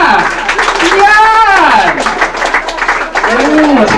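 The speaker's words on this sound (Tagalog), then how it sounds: "Palakpakan naman natin." A crowd at a 1997 Filipino family reunion claps together loudly and continuously, with a voice calling out over the applause.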